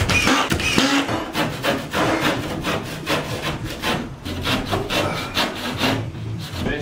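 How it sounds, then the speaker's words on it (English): A brick saw cuts on a building site with a repeated rasping, sawing stroke rhythm, loud and close, stroke after stroke, with no voices. "I'm going to saw that, like you see, I don't want it drifting"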